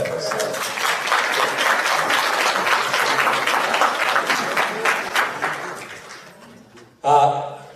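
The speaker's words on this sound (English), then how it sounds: "How about a nice round of applause for Phil?" A reunion audience gives a round of applause for a Vietnam veteran classmate, many hands clapping steadily before fading out, then a brief burst of a voice at the end.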